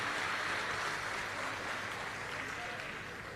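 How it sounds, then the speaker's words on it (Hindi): An audience at a Shiv Mahapuran religious discourse in Sangvi, Pune, applauding in welcome, a dense, continuous wash of clapping that fades slightly toward the end. "एक बार यजमान परिवार के लिए जोरदार ताली बजाकर स्वागत"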